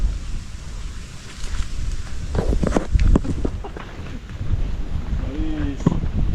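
Steady wind buffets the microphone with a low rumbling roar, gusting throughout while voices speak faintly underneath.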